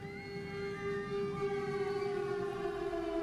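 A civil defense air raid siren wails steadily in Ukraine during wartime, a sustained droning tone with harmonics, moderately distant and continuous without speech.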